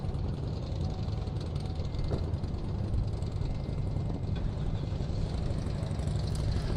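Police motorcycle escort engines rumble steadily at the head of a funeral procession for a Syracuse police officer on Dominic Street, a continuous low idling drone with no speech.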